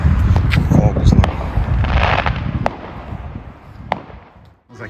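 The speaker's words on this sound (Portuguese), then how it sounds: "Ó, cheio de fogos lá." Fireworks bursting during a Bonfire Night celebration in Winchester, England: loud crackling and popping blasts over crowd noise, with sharp isolated bangs as it fades.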